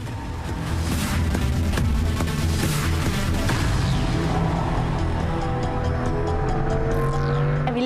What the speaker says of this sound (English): Swiss racer Rahel Frey drives Felix around the Grand Prix track at the Nürburgring